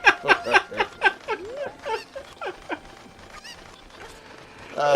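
Cucco chickens cluck in Ocarina of Time as a rapid string of loud, squawky game clucks in the first seconds, fading to quieter chirps, with a burst of noise at the end.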